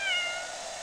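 A single drawn-out cat meow from the Otogirisou video game, made by a green cat emerging from a pile of scattered armor, sounding clear and steady with a slightly wavering pitch and no voices over it.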